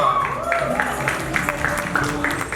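Audience applause for a film team at the Chhota Bheem and the Curse of Damyaan music launch, a steady wash of clapping with a few voices and whoops mixed in throughout.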